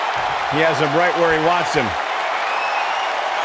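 Sold-out arena crowd in the wrestling game WWE 2K19 roaring as a steady wash of cheering beneath a commentator's voice, with a short sung or chanted tone partway through.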